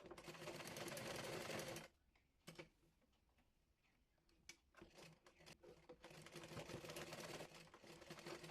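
A sewing machine stitches neck-design fabric around the neckline of a kameez, running steadily, then stopping for a quiet stretch with faint clicks, then starting up again.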